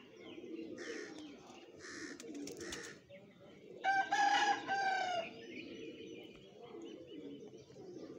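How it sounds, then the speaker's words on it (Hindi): A pigeon coos softly and repeatedly over a low rumble of background noise, with a louder, harsher bird call bursting out briefly midway. "एक और कबूतर है जी वो भी दिखाता हूँ"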